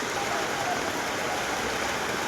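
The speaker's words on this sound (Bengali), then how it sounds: "দারুণ বৃষ্টি হচ্ছে" Heavy rain pours steadily at an outdoor spot, a dense, even hiss that stays constant without a break for the whole short stretch.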